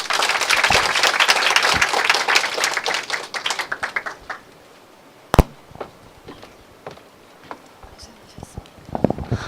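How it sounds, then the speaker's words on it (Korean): Enthusiastic audience applause after a lecture at a Gangnam center gathering, dense clapping for about four seconds that thins into scattered claps and a sharp single clap, with a few late claps near the end. "이무종 리더님에게 다시 한번 박수 부탁드립니다"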